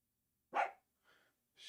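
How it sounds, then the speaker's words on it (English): A dog barks once loudly and close, followed by two fainter, shorter bark-like bursts, with no talk over them. "Tired of Leroy always barking and stuff."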